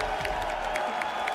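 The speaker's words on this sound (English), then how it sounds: "One more round of applause for BooceLee." A crowd roars with sustained cheering and applause at the Street Fighter 6 grand finals of a fighting-game tournament in Orlando, a dense continuous wash of noise.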